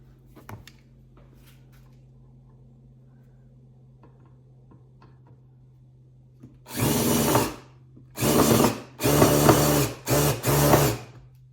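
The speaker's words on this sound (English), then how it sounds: "So, get some screws started." Power drill driving screws into wood while mounting a Starlink dish, a quiet start with faint clicks and a low hum, then four loud whirring bursts of a few seconds each close by, separated by brief pauses.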